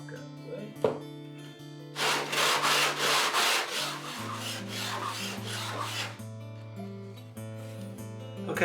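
Broadband rasping of sanding wooden side reinforcement braces to remove chalk marks, a dense run of quick rhythmic back-and-forth strokes, close and fairly loud, with sustained musical tones underneath throughout.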